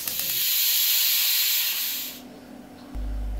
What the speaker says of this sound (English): the other cooker has veggies to steam